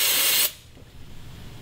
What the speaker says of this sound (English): I'm just going to spray it on the inside to remove and get rid of all that dirt